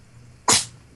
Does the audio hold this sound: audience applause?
no